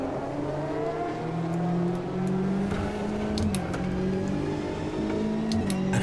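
Corvette race car engine in the Automobilista 2 racing game, a steady, sustained engine drone with smooth rising pitch sweeps as it accelerates through gears, continuous and fairly loud with no talk.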